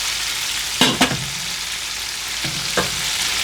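Pasta tumbling into hot oil in a pan, a constant loud sizzle broken by a few sharp clattering scrapes and stirs, no voices.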